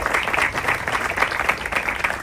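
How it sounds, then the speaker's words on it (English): Crowd applause at a Maywood ribbon cutting for Black Men United, steady sustained clapping from many hands, moderately distant and without speech. "Let's give Black Men United and Reverend Harrell a round of applause."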